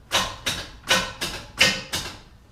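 A failing starter on a 1968 Camaro SS clicks and clunks six times in a steady rhythm, each hit a sharp engagement that never turns the engine over, close and fairly loud with no talk.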